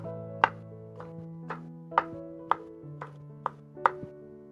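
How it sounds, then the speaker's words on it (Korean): Knife on a cutting board slicing shiitake mushroom caps into thin strips for a vegan Korean spicy vegetable soup, giving about eight separate crisp chops at a steady, unhurried pace, close and fairly clear over a faint low background hum. "머리 부분은 채 썰어 주시면 됩니다"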